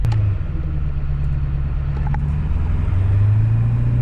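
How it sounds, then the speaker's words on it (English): A 2003 Ford E350 4x4 van with a 7.3L Powerstroke diesel and straight exhaust drives at about 25 mph, producing a steady, loud low engine drone and road rumble throughout. "with a straight exhaust at 25 miles an hour, it does not sound overbearingly loud"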